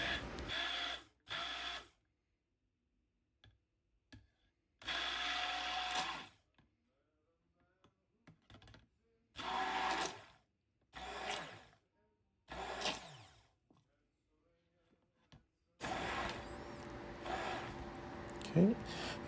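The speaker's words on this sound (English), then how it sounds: "we are just going to stick blend the hardened oils so they can mix properly" A stick blender whirs in several short bursts separated by silences, mixing hardened oils for soap, ending in a longer run of mixed clatter.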